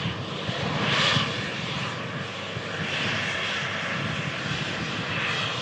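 An aircraft engine roars steadily at an airport as a plane comes in to touch down, a broad loud rumble holding level throughout with slight swells, no voices over it.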